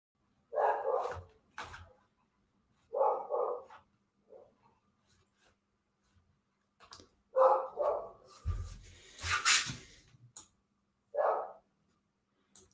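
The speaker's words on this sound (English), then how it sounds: "That's the dog." A dog barks in several separate bursts, a single sharp bark or a quick pair each time, with quiet gaps between, fairly close and clear. A brief louder rustling noise comes near the end.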